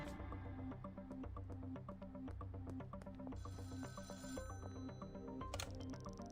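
A payphone in the video game Schedule 1 rings repeatedly in a steady electronic pattern, clear and fairly close, with faint background game ambience and no talk.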